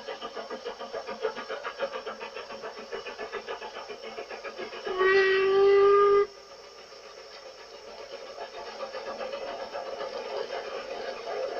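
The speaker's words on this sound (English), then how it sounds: "George Stephenson was the first steam loco to leave Tain for 25 years, heading north towards the Dornoch Firth." The Black Five steam locomotive George Stephenson works north from Tain toward the Dornoch Firth with a steady rhythmic chuff, broken midway by a loud whistle of about a second before the chugging returns.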